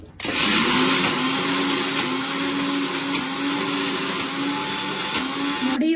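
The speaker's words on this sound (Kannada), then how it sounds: "ನೋಡಿ ಇವಾಗ ಮಿಕ್ಸಿಗೆ ಹಾಕೊಳ್ತಾ ಇದೀವಿ ನಾವು." A kitchen mixer grinder whirs loudly and continuously as it grinds a cooked chana dal filling for holige, its motor holding a steady high whine close by for several seconds.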